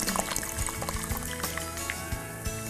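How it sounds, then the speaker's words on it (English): Soda water fizzes and trickles as it is poured into a jug of nimbu pani lemonade, a close, soft stream of bubbling liquid with small splashes. "if you're interested in getting some fizz, you can add in some soda water"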